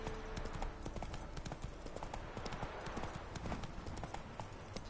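A horse gallops with rapid, steady hoofbeats in The Witcher 3: Wild Hunt, close and continuous under a dense bed of wind and ambient noise.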